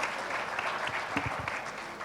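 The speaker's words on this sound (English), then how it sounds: "One more round of applause here." An audience at a panel discussion on stockbroker regulation gives a short round of applause, a dense continuous patter of many hands, with a few low murmurs of voices underneath.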